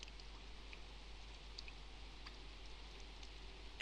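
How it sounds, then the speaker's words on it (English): Steady, soft rain from the Persona 4 video game, a faint even hiss with scattered light drop ticks, no voices. "It's raining right now."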